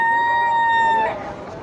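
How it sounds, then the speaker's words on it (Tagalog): A rooster crows once in a long, drawn-out call that cuts off partway, with background bustle of a busy market with many chickens. "Yan oh, daming manok oh."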